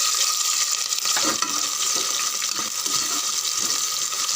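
Onions and green chillies fry in a pan for a coconut-milk veg biryani, a steady dense sizzle running throughout with scattered scraping stir strokes, close and fairly loud, no voices.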